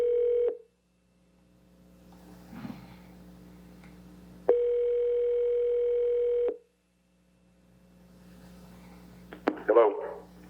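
A telephone dial tone sounds during a played prank call, a steady tone for half a second, then again for two seconds after a quiet gap, followed by faint clicks and a brief burst of noise.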